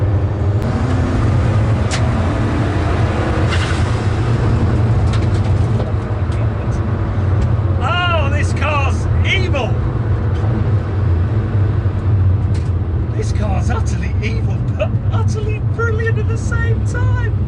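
A Lancia Delta Integrale driving with a loud, steady engine and road rumble running throughout, the low drone unbroken, with a few brief high chirps layered on top toward the middle and end.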